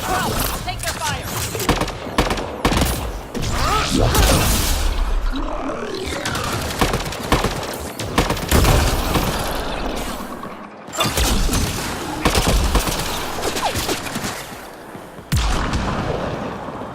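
Gunfire in the sci-fi shooter Mass Effect: Andromeda, dense bursts of weapon fire and booms with crashing impacts, loud and continuous with brief gaps, mixed with game voices.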